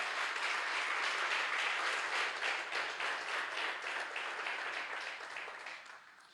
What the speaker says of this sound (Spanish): ¿qué te parece este aplauso glorioso que sube hasta los cielos de los cielos